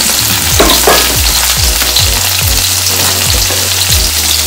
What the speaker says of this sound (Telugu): వేసుకొని బెండకాయల్ని బాగా ఫ్రై చేయాలి.